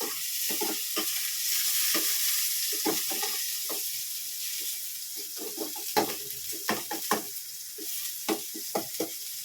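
Garlic and onion sauté in a pan for chicken curry, a steady close sizzle and hiss of frying with occasional scraping stirs and clinks of a utensil against the pan, no talking.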